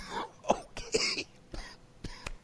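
A person coughs in several sharp, separate bursts spread unevenly across a few seconds, close by with rough throat-clearing, and no talking.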